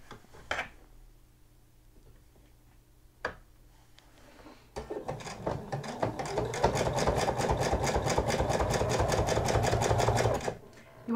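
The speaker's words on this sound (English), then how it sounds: "And I'm just going to top stitch it here." A sewing machine topstitches a narrow folded quarter-inch hem on a sequin hoodie: after a few quiet clicks, it runs in a fast, steady, loud needle rhythm for several seconds, then stops.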